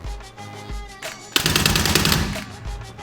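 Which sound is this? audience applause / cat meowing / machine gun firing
machine gun firing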